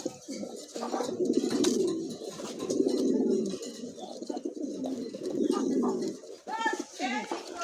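Andalusian pigeons coo in a loft where birds are offered for sale, the throaty rolling coos of a likely male repeating in steady bursts close by, with faint background chatter and rustling between calls.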